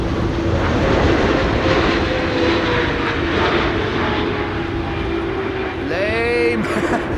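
Airliner landing at Amsterdam Schiphol Airport in Storm Amy, a steady broadband engine roar blended with heavy wind noise throughout, with faint voices and a brief whistling tonal sweep near the end.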